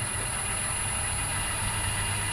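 A Myford lathe motor runs on an inverter with a steady electric hum and a thin, high whine above it, constant and close throughout.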